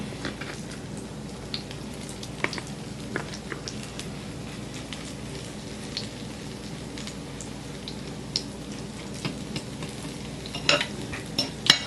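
Fish patties fry in a pan with a steady, dense sizzle that carries on throughout, broken by occasional sharp crackles and pops, close and moderately loud with no voices.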